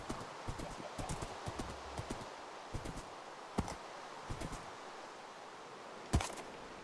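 A horse's hooves clip-clop in a video game, with scattered uneven thuds over rustling ground noise and one louder sharp hit near the end.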